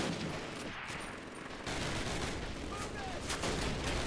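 Machine gun fire in Call of Duty United Offensive forms a dense, continuous rattle of rapid shots over a loud battle din, swelling slightly partway through.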